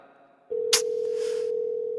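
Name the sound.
phone call ringing unanswered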